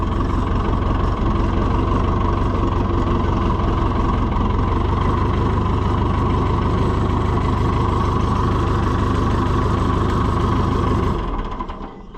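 An Allis Chalmers 175 diesel tractor idles with a steady, loud, rough chugging, running evenly for several seconds before the engine is shut off and winds down near the end.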